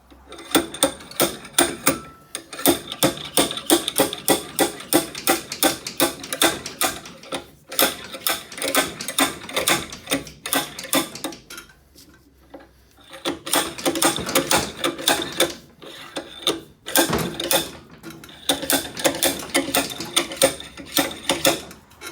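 Slide hammer yanking a tight-fitting part on a 1977 Honda CT70 with a Lifan 125 engine, giving dense runs of sharp metallic knocks and clanks in repeated bursts with brief pauses, close and loud.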